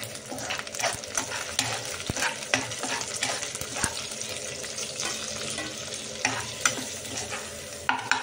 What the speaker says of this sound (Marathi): कांदा व्यवस्थित तळत आलेला आहे। आता आपण थोडा कढीपत्ता आवडीप्रमाणे टाकायचा।